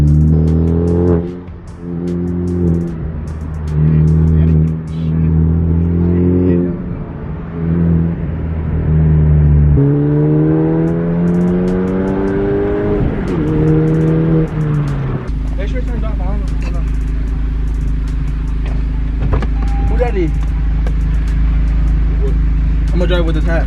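A 2021 Honda Civic Type R fitted with a PRL catted downpipe revs up and down in repeated loud, rising and falling engine sweeps, then settles into a deep steady drone while people talk nearby.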